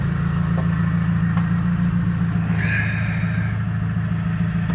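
A green truck's engine idles steadily with a low, even throb and quiet rocker arms, close by and constant, with a faint brief squeak midway and no one talking.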